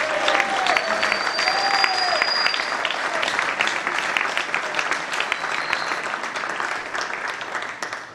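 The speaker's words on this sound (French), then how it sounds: "Merci d'applaudir Lim Jung-un." Steady audience applause fills a table tennis hall as a player is introduced at a club match, dense clapping holding at a constant loud level with a few brief whistle-like tones drifting over it.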